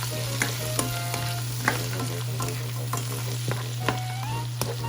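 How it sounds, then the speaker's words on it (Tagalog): Shrimp and tomato are stirred in a sizzling pan. A steady fry hiss runs throughout, with sharp utensil clicks and scrapes against the pan at irregular intervals. No one talks. "You have to stir it very well."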